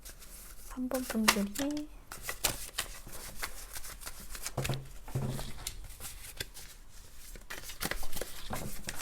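Emotion cards being shuffled and drawn for a reading, with soft papery riffles and flicks close by, while a person talks over them.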